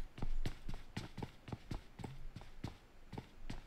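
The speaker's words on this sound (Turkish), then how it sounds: "Bir yerden ayak sesi vardı da" Footsteps in PUBG Mobile come as a quick, even run of close, crisp thuds, about four per second, over a quiet background.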